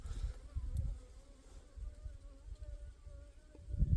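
Wild native Korean honeybees living in a natural hive swarm around it with a continuous, close buzzing hum, and low rumbling thumps come and go beneath the drone.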